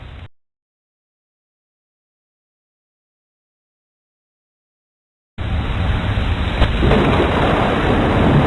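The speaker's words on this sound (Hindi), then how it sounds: "शीला, मौसम बहुत खराब है, बहुत बारिश हो रही है।" Heavy rain in bad weather starts abruptly after a stretch of silence, a loud, steady, close roar of broadband noise with a brief rumble or crack within it, and no talking.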